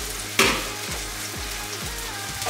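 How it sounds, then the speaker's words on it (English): Chicken pieces browning in a hot pan give a steady sizzle and crackle, with a sharp louder burst near the start as food is stirred or moved. "while that chicken's browning off"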